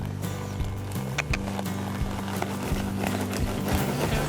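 Horses trotting under riders in a synchronized riding session, the hoof beats a steady, fairly close clip-clop rhythm over a constant low hum.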